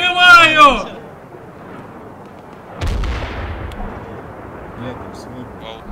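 Detonated mines in the video game Arma 3 go off in one heavy, booming blast that rumbles and decays slowly, following a player's shouted call and sitting under faint background voices.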